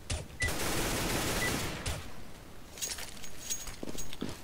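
Pistol-round gunfire in the video game CS:GO: a dense burst of rapid shots opens the moment, then thins into scattered pops and distant cracks over steady game ambience, with no talk.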